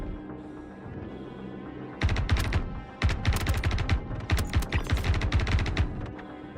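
Gunfire in the Star Citizen video game: after a quiet stretch, a rapid automatic burst breaks out, pauses, then resumes as loud, close, sustained rattling shots until the end.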